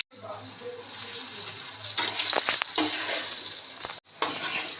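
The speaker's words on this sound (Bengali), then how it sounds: "একটু নুন দিয়ে বেগুনটা ভালোভাবে ভেজে নিই" Salted eggplant sizzles and hisses steadily in a pan, with scraping stirring strokes and a brief pause in the frying near the end.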